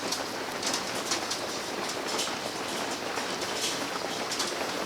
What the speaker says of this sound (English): Oh, it's hailing outside.